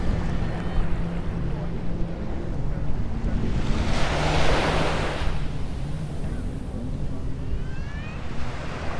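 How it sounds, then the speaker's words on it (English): Jet skis out on the sea at Patong Beach, Phuket, a distant engine drone mixed into steady surf and wind, with a brief louder rush of water spray in the middle; no voices. "There's people on the jet skis."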